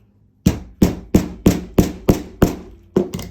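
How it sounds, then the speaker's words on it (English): Seven sharp metallic hammer blows on a jeans button set face down on an anvil, struck at a steady rhythm about every third of a second, loud and close, after a short quiet start. "And just hammer it with a hammer."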